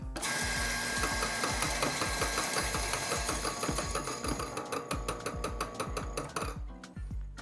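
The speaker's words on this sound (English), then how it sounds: "and then let's grind" An espresso grinder grinds coffee beans with a steady, close mechanical whir for several seconds, then winds down into rattling, ticking clatter.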